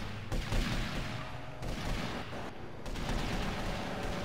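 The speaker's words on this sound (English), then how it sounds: "Oops, they're shooting at us." Enemy gunfire in GTA: Vice City comes as bursts of sharp, rattling shots in quick succession, loud and close, with brief gaps between volleys.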